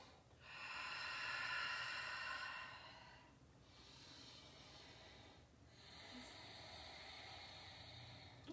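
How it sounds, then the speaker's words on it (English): Slow, deep breaths during a yoga session: a long airy inhale-like rush followed by two softer hissing breaths, close and breathy with no talking over them. "Couple more deep breaths"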